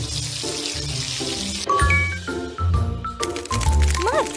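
Bright chimes and tinkling accompany cartoon shower water running in a baby unicorn care game, with a bouncy music bed and rising sparkle effects over a few seconds.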